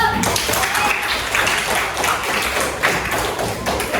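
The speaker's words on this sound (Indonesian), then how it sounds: "penampilan kelompok 2 kita kasih tepuk tangan dulu" A classroom claps for group 2's presentation, an uneven, fairly close patter of hands with taps and thuds and some speech mixed in.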